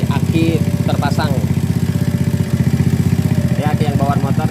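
A Honda motorcycle engine, running on a used battery just fitted, idles with a steady, even chug throughout while a person talks over it.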